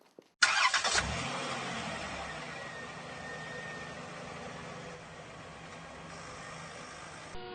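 A car engine cranks and catches with a sharp burst, then settles into a steady, fairly loud idle that runs on alone, easing off slightly toward the end.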